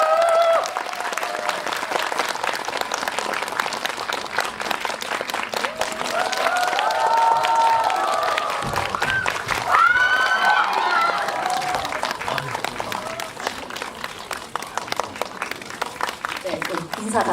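Audience applause and cheering at a CGV live talk event as actor Im Si-wan, actor Kim Hee-won and director Byun Sung-hyun are welcomed, with steady clapping filling the room while a host keeps talking over it.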